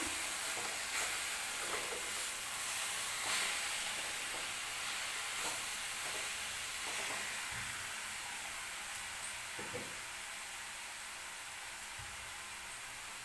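Sweet coconut and jaggery modak filling is stirred in a pan, a soft steady sizzle broken by repeated scraping strokes of a spoon at an even pace, fairly quiet, with no talk.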